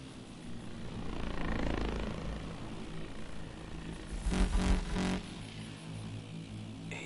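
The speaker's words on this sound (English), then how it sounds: "Drone, don't move." Drone in Call of Duty Advanced Warfare hovering with a whirring rotor drone that swells and fades, joined by a louder burst of mechanical noise midway, no talk.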